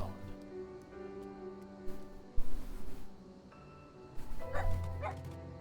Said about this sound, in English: You can make him bark?